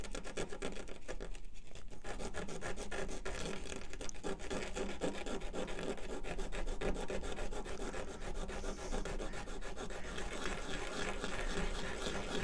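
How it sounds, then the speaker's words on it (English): Sandpaper rubbing back and forth on a part during an electronics repair, a fast, steady, close scratching rasp that runs continuously with an even rhythm, quiet and alone without speech. "So I've got this piece of sandpaper."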